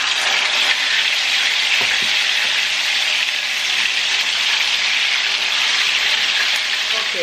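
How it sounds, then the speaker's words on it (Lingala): Fish frying in heated oil for a dongo dongo sauce, a loud steady crackling sizzle that holds unbroken throughout with no voices. "Donc awa na esko ko tia mbisi nanga parce que mafuta nanga chauffé."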